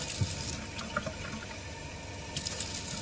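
Water is poured into coconut milk in a measuring cup, giving a soft, continuous splashing trickle at moderate volume with a few small clinks and no talking.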